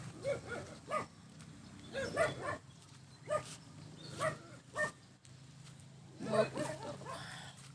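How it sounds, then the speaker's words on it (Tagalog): A dog barks in short bursts, several separated yelps spread across the clip, moderately close, with a person speaking and background chatter underneath. "Ano yung aso?"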